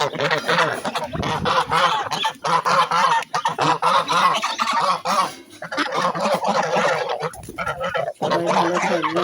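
Ducks on a farm give loud, close, continuous honking and quacking calls from several birds at once, overlapping with few pauses.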